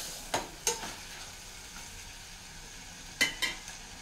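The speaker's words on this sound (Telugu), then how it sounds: "మిక్స్ చేద్దాం ఇది, మళ్ళీ కలుపుకుందాం." A brinjal and green peas curry is stirred in a pan, with a few sharp spoon scrapes and clinks against the pan over a low, steady background hiss.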